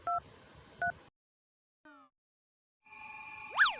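Short bursts of telephone keypad tones, two quick beeps, a brief rising chirp, then a sustained warbling ring tone that swells near the end, with silent gaps between.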